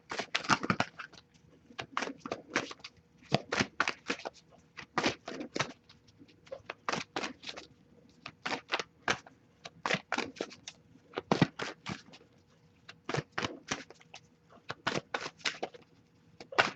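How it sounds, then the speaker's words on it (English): A deck of oracle cards is shuffled by hand in repeated quick riffles and bridges, a crisp papery flutter coming in bursts with short pauses, close up and quiet, with no talking. "All right, give it a few more shuffles."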